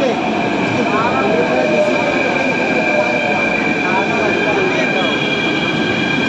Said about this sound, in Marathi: बघा आलेलं आहे मेट्रो।